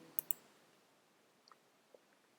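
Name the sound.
mouse click on a media item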